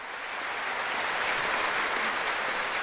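A church congregation applauds together during a worship service, a dense, steady wash of clapping that holds at full volume for about three seconds, with no voices standing out.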